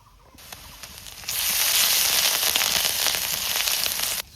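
Ginger paste tipped into hot oil already tempered with dried chillies, whole cumin, bay leaves and tomato, bursting into a loud, steady hiss that swells suddenly, holds for a few seconds, then cuts off.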